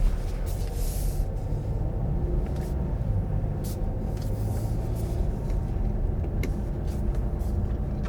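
Volvo V60 Cross Country T5 pulling away, with a steady low engine rumble and cabin drone inside the car, plus a few faint clicks and knocks.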